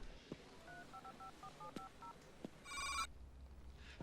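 A telephone is dialed in a movie scene, with a quick run of evenly spaced keypad tones followed by a brief ringing burst, heard clearly over a quiet background.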